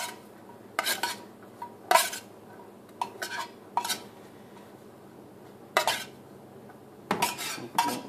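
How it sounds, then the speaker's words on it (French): Vegetables tossed in a bowl with pepper and dressing, giving a series of sharp, close clinks and scrapes of a utensil against the bowl, spaced irregularly over a quiet kitchen background. "Bien mélanger les légumes, pour qu'ils ne soient pas trop fades."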